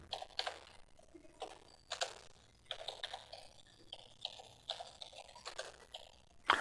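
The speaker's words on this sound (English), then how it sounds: "I'm just going to type in some keywords here." Fingers typing keywords on an unfamiliar computer keyboard, producing irregular bursts of light, close key clicks and taps with uneven pauses between, fairly quiet and without speech.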